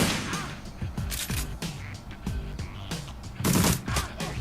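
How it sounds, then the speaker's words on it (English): A burst of rapid gunfire from an aimed shot in the video game Shadowrun Returns: a quick string of sharp, punchy cracks in close succession, loud and up front, with a heavier blast near the end. "Aimed shot so you won't miss."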